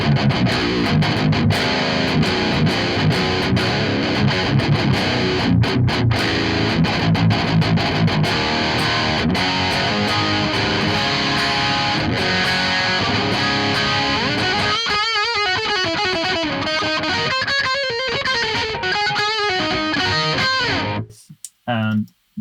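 Heavily distorted high-gain electric guitar riffing through an Audio Assault RVXX amp simulator with a Diezel cab, dense and loud with chugging palm-muted chords, ending in abrupt stops.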